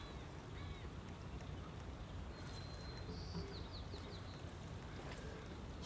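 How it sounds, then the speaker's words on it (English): Birds chirp faintly in the distance over steady outdoor wind and water noise by Puget Sound, a few short high calls scattered through. "You hear the birds."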